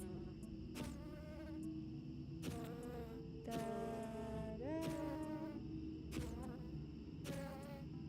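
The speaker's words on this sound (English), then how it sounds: "I see so many bees already." Insect-like buzzing from bees in a hidden-object puzzle video game repeats in steady electronic drones, with several short bursts and a longer rising whine, fairly close and alone.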